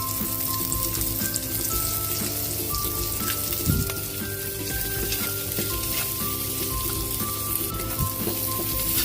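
Garlic and onion fry in a hot pan with a dense, steady sizzle and crackle, close and loud, with a brief clatter of stirring partway through and no talk.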